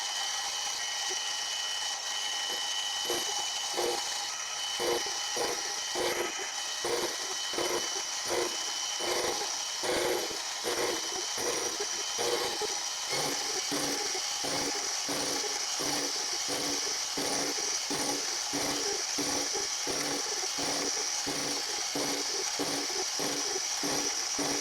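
A Quorn Mk3 tool grinder takes a cleaning cut across the face of a wheelhead collar: a steady motor whine with a rapid, regular ticking pulse running throughout, close and even, with no talking.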